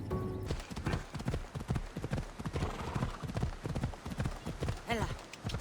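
Horse hooves clip-clop in a steady galloping rhythm in the Assassin's Creed Odyssey video game, loud and close, with a brief whinny near the end and a voice calling out over it.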